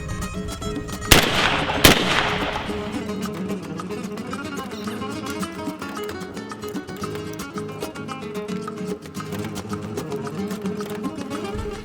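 Shotgun fires shells loaded in reloaded Fiocchi Exacta hulls, two sharp loud blasts a second apart followed by a long stretch of ambient noise with faint clicks and handling sounds.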